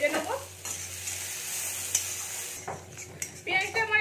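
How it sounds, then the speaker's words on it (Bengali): Chopped onions and green chillies fry in a pan with a close, steady sizzle, mixed with stirring and the scrape of a utensil against the pan; a voice is briefly heard at the start and end. "কাঁচা লঙ্কাটা একটু ভাজা ভাজা হয়ে এসেছে, এবার আমি পেঁয়াজ কুচিগুলো দিয়ে দিলাম।"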